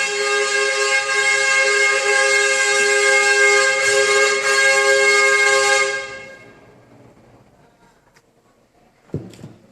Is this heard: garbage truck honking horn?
yes